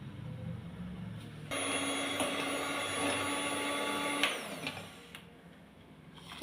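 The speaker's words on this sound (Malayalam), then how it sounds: "ഒന്ന് ബീറ്റ് ചെയ്തെടുക്കാം." An electric hand mixer beats 25 grams of butter for buttercream frosting for cupcakes, a steady loud motor whine that starts abruptly, holds for about three seconds and then cuts off.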